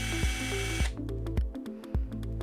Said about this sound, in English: I can take the tool off safe mode and run the burr by depressing the trigger